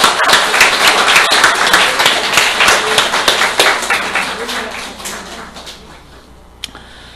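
A church congregation bursts into loud, dense applause during a Sunday service, the clapping sustained for several seconds before thinning out and fading near the end.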